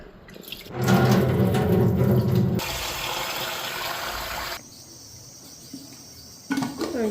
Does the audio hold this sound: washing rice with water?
yes